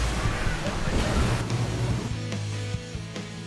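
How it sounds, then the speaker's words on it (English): A waterfall on a wild stretch of the Snake River in rugged, remote Hells Canyon roars as a steady, dense rush of falling water, loud and continuous, easing slightly toward the end. "It's actually a waterfall."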